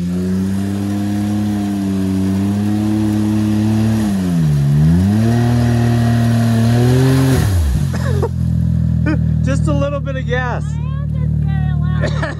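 Can-Am Maverick X3 engine revving under light throttle as it pulls a tree down, a loud, close droning engine note that rises and dips in pitch, with people talking over it toward the end.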